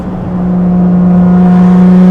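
A car, newly repaired so third gear no longer crunches, pulls hard with a loud, steady engine drone close by that builds slightly in pitch, with no voices.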